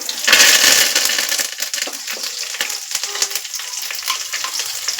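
Garlic and curry leaves drop into hot oil for masala rice, giving a loud burst of sizzling that settles into steady close frying with small crackles and stirring.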